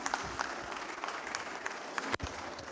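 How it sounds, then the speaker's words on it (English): Steady applause from an audience at a university convocation ceremony, many hands clapping continuously with a few louder claps standing out. "More applause, more applause."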